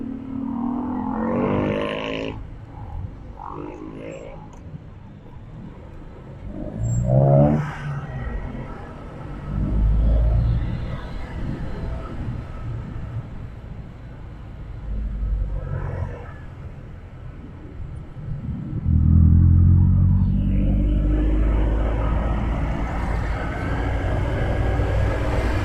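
Road traffic in Bacolod City, with steady engine rumble from passing cars, swells as vehicles go by, and loud low engine noise near the end. No one speaks.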